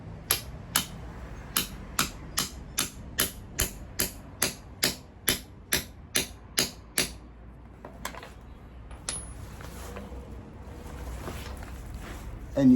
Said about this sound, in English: just hammer away.